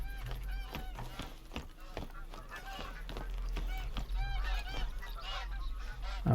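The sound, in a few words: ducks or geese calling in The Hunter video game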